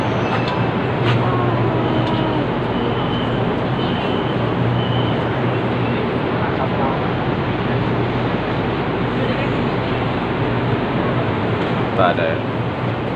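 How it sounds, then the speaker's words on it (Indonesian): An LRT light rail train rolls along with a steady, loud rumble and rattle throughout the ride, with faint voices of passengers talking underneath. "jom kita lihat dan kita naik LRT"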